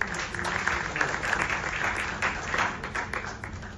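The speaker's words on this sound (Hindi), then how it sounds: "जोरदार तालियां करते" Audience applause after a classical music performance in Punjab, dense steady clapping from a crowd lasting a few seconds, moderately loud.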